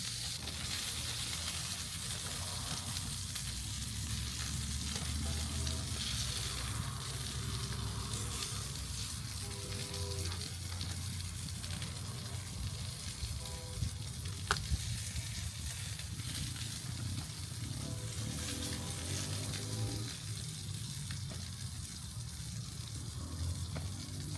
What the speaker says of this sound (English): I'm going to clean the grill up before I make this rice up